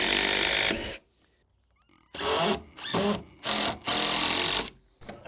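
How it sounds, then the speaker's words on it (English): A cordless drill drives a screw into a wooden shed ramp in several short bursts of whirring, separated by pauses with near silence between them. "All I'm going to do is put my drill on a screw, ready to drive forward."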